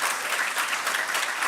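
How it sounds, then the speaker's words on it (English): An audience at a technology conference in Nairobi claps, a thick, continuous crowd applause that stays even and fairly close for the whole moment. "Let's clap better."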